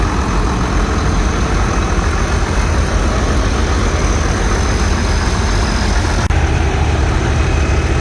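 A tractor engine idling steadily, loud and close, a dense continuous low rumble with an even mechanical drone and no change in pace.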